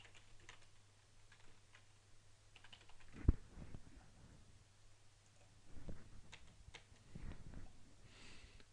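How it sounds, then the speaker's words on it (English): Quiet typing on a computer keyboard, with scattered soft key clicks in loose bursts, one sharper tap near the middle and a faint steady hum underneath. "let's type the answer in here"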